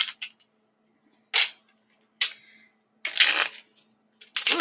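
Tarot cards are shuffled by hand in several short, crisp riffling bursts with brief pauses between them, heard close with no voices.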